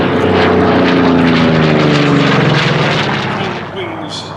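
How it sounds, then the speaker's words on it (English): Goodyear Corsair FG-1D propeller fighter at a Fly Navy airshow, its big piston engine roaring loud and close in a steady drone that fades slightly toward the end, with a voice speaking over it. "It was a big propeller to drive a big engine."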